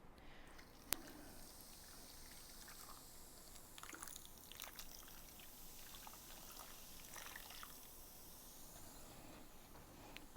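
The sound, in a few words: pouring Coke into pan with brown sugar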